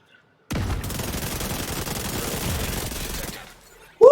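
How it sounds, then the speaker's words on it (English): A grenade explosion and bursts of gunfire in The Division 2, a loud sustained barrage of blasts and shots for about three seconds that fades, then a brief sharp sound at the end. "Alright. Yeah, hit that grenade."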